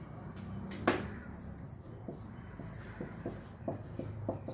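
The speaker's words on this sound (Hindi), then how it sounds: "लिखते हैं" Chalk or marker writing on a board during a chemistry lecture on electrophilic substitution reaction mechanisms, heard as a series of short scratchy strokes and taps in a quiet room, one sharp knock near the start.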